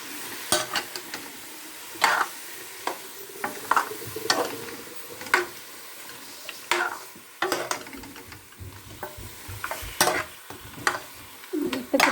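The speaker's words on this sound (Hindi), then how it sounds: "तकरीबन 2 मिनट तक ऐसे गोश्त को पकाएंगे हम, उसका रंग चेंज होने तक" Lamb pieces fry in a karahi with onions, a steady low sizzle broken by repeated scraping and clinking strokes of a spoon stirring the meat against the metal pan, close and without talk.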